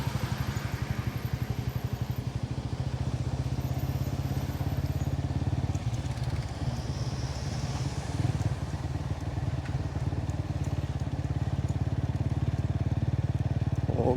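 A motorcycle rides along the NH 66 national highway in Kannur, its engine putting out a steady putter, with faint traffic noise around it.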